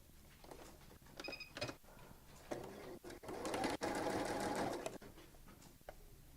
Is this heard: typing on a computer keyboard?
no